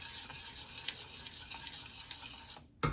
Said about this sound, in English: My milk is boiling, so now it's time to add the oats.